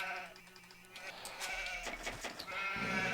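Sheep bleating inside a strategy game while scouting, a few short game bleats layered over soft background music and interface sounds.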